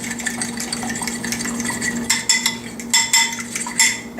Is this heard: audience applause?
no